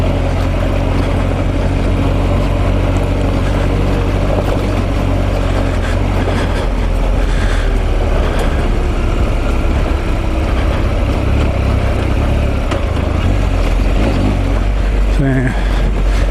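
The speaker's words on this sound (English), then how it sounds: "These triple engines, they're probably not the best engines for off-roading." A triple-cylinder motorcycle engine churns in low gear while off-roading, a loud, continuous low rumble with rising and falling revs throughout, heard up close with wind buffeting.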